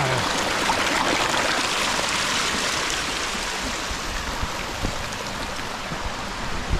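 Natural hillside stream in the mountains, water rushing and splashing in a constant, full, close-up flow that carries on steadily throughout with no voices.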